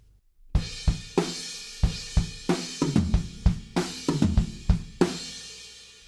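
Acoustic drum kit playing the fill from a song, a left-right pattern with kick drum: a string of sharp hits with crashing cymbals, loud, close and alone.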